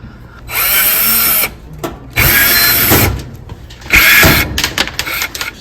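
A cordless power driver with a T20 Torx bit whirs in three loud, close bursts of about a second each, backing screws out of a Thermador oven, with scattered clicks and handling noise between bursts.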